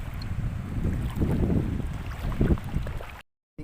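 Wind gusting at sea aboard a small fishing boat, a loud broadband rush buffeting the microphone with choppy surges, then cutting out briefly near the end.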